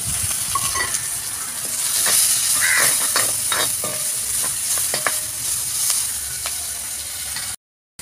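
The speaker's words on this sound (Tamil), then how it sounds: "ஒரு பிடி ஃப்ரெஷ்ஷான கருவேப்பிலை இதை போட்டு வதக்கிப்போம்." Fresh curry leaves sauté in hot oil in a pan with garlic and ginger, giving a steady, fairly loud sizzle with scattered crackles and pops close by, then a sudden cut to silence at the end.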